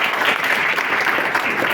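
Audience applause fills a hall during a motivational business talk, a steady, dense wash of clapping from a large crowd that holds at full loudness throughout with no voice over it.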